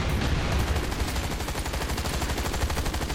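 Rapid gunfire from a zombie-and-dinosaur shooter video game rattles continuously and loudly, a dense automatic burst with a steady rhythm and no talk over it.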